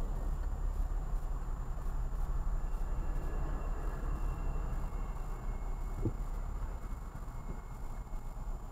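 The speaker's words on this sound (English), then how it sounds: "I don't know if you can hear that or not. That's the train yard." Low, steady rumble of trains at a distant train yard, a continuous drone heard from across the neighborhood with no voices.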